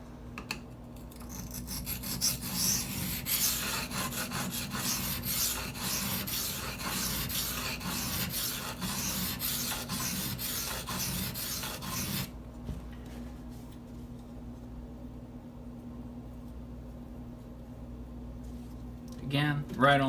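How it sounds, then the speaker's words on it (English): A Spyderco Native 5 knife being sharpened on a silicon carbide stone, repeated close rhythmic rasping strokes of blade on stone for about twelve seconds, then quieter handling as the stone is rotated, with a voice speaking at times. "Go ahead and rotate my stone."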